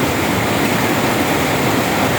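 Heavy rain overwhelming the drainage of a large warehouse on a construction site, a loud continuous rushing roar of overflowing water, constant and dense with no pauses or voices.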